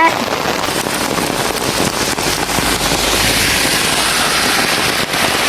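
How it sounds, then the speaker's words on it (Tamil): Heavy rain pours outdoors near a railway track and bypass under a darkened sky, making a loud, dense, unbroken roar with occasional wind buffeting against the microphone. "மழை அதிகமாக வந்துச்சு"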